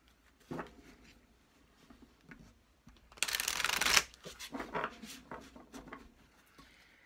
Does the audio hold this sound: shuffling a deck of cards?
yes